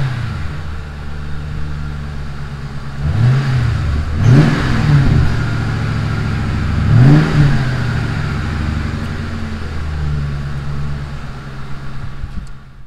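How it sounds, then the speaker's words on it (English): A Mercury Panther platform car fitted with AP Xlerator mufflers and a Walker dual exhaust revs up sharply about three times, each a rising, throaty surge over a steady rumbling idle, close and loud with no talking. "we drive it and give her the rev her out test"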